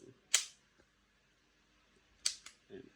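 A WE M9 gen2 gas blowback airsoft pistol fires two sharp, close cracks about two seconds apart, the second followed quickly by a mechanical clack of the slide, with quiet pauses between.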